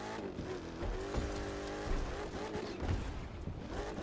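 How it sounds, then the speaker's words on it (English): A monster truck engine in the racing game The Crew 2 revs loudly and continuously, with surging throttle swells and tire noise, and no voices over it. "I think this will probably be the best monster truck in this game."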